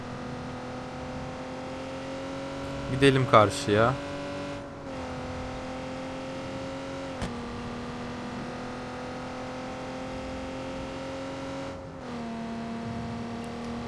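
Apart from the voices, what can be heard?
car engine revving in video game Watch Dogs 2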